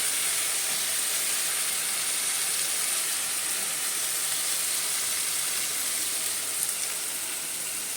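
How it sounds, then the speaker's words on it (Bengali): Chopped tomato hitting hot spices in a pan for a village-style mutton and potato curry, giving a continuous loud, dense hiss and sizzle that stays even throughout, with no voices. "এখন দিয়ে দিচ্ছি কুচিয়ে রাখা টমেটোটা"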